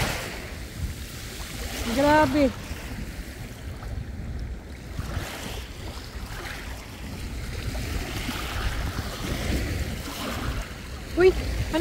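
Strong ocean waves surge and wash steadily at the shore, with wind rumbling across the microphone and a voice speaking briefly now and then.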